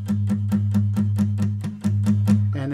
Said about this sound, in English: you're going to do slight palm mute, which means you're just going to lightly rest your palm on the strings as you're plucking